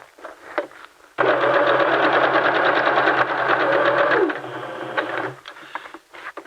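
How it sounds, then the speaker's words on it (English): A sewing machine stitches a seam on a T-shirt dress, running steadily at close range for about three seconds with a rapid, even mechanical whir, then slowing and stopping. Quieter handling noises come before and after. "sew that seam all the way around to the other side"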